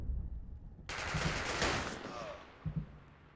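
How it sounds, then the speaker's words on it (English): Gunfire in a WW2 strategy video game: a loud sustained burst of automatic fire and crackling shots erupts after a quiet start, then tapers into a couple of heavier thuds near the end. "let's open fire on them"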